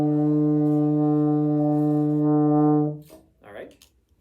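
Baritone horn sustaining a steady D, played with valves 1 and 2 as part of a beginner lesson, holding one loud, even tone for about three seconds before a short voice follows.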